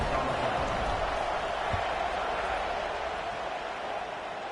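Crowd at a Florida State college football stadium just before kickoff, a steady, dense roar of many voices filling the stands throughout, with no clear individual shouts standing out.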